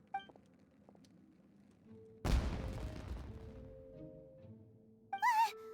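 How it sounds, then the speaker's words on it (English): A firework blast in Genshin Impact booms suddenly midway, followed by a crackling, rumbling tail that fades over a couple of seconds, with brief game chimes and effects before and after. "Was that an explosion? It sounded like fireworks."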